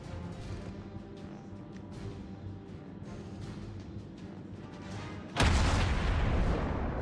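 Ship guns fire in a naval video game battle against a destroyer: low rumbling booms throughout, then one sudden loud, close blast near the end that leaves a heavy roar.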